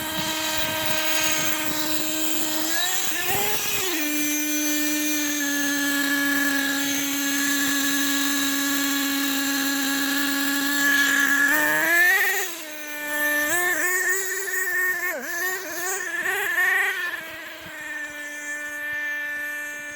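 An HPI Savage X 4.6 nitro RC truck engine idles high with a buzzy, whining drone, broken by a few short revving wobbles. No voices are heard.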